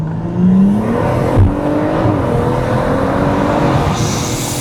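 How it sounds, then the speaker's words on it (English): A tuned stage 3 BMW M140i with about 630 bhp accelerates hard with a rising engine drone, whooshing turbo and wastegate noise, and a brief flutter as it shifts, recorded from inside. "This is one of the most brutal sounding turbo setups I have ever driven"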